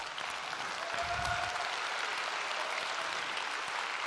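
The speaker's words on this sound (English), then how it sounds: "you guys clapped a bit earlier than I thought" An audience at a smartphone and game launch event applauds in a dense, sustained round of clapping that stays even from start to finish.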